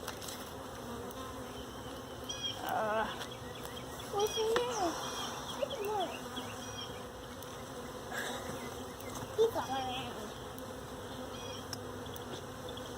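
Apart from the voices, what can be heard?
honey bees buzzing during hive inspection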